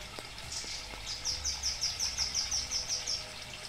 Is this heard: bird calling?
yes